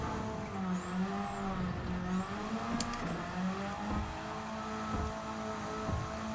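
Race car in Gran Turismo, a World Touring Car 600 race, with a steady droning engine whose pitch rises and falls through gear changes and corners, a constant close hum with faint tire noise.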